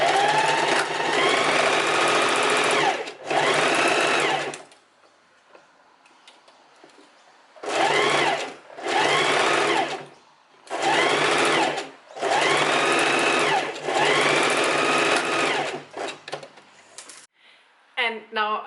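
A sewing machine runs a seam on linen shorts, whirring loudly and close in several bursts of a second or two each, separated by pauses with faint handling noises.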